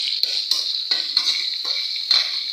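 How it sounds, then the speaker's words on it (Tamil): Onions sauté in a pan with fennel, ginger-garlic paste and curry leaves for chicken curry, a steady high sizzle broken by repeated scraping stirs of a spoon against the pan. "வெங்காயம் ஒரு நிமிஷம் வதங்கட்டும்"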